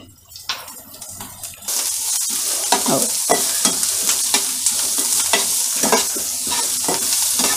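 Onion frying in an oil tempering with asafoetida and salt, a steady loud sizzle with repeated spatula scrapes and stirring strokes against the pan, no voices.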